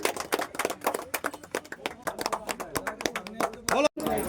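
A crowd at a fishing competition prize giving claps in quick, dense bursts, close by, while people talk over the applause.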